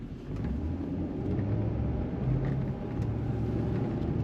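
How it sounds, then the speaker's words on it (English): Steady low exhaust rumble from a 2006 Chevrolet Corvette Coupe with automatic transmission and paddle shifting, a continuous deep drone heard from inside the moving car, swelling slightly midway with no talk over it. "But for a little rumble out the back that every Corvette should have."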